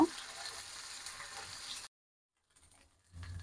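Mashed greens (shak) frying in a pan with garlic and ginger, a steady close sizzle for about two seconds that cuts abruptly to silence, then faint crackling returns near the end.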